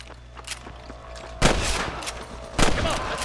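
Gunshots in the Western video game Red Dead Redemption, a few sharp, loud cracks spaced about a second apart, the last two heaviest, over faint background ambience.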